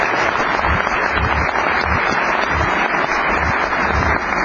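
A television studio audience applauds three senators on a Mexican opinion show, with a dense, steady round of clapping that lasts the whole time and has no talk over it.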